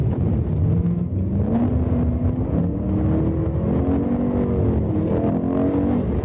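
A 2013 BMW M3 Competition Package engine rising and falling in pitch as the car is driven through a turn, with a close, loud, continuous cabin drone and no talk.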